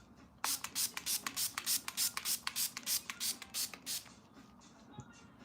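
A cosmetic face spray is misted onto the face in a quick, even series of about fifteen short, close hissing pumps, then stops into near quiet.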